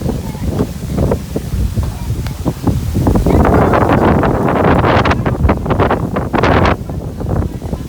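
Strong wind during a storm in a rural village buffets the microphone, with gusty rushes and rustling that swell in the middle, and voices talking beneath.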